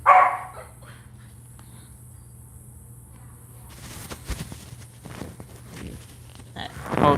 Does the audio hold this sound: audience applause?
no